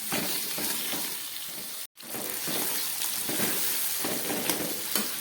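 Tomato and onion fry lightly in a pan, giving a steady close sizzle with faint stirring crackles and one brief dropout partway through.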